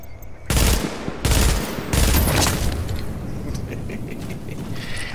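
Rapid bursts of video game gunfire, several loud close volleys in quick succession, followed by quieter mechanical clatter and scattered game effects.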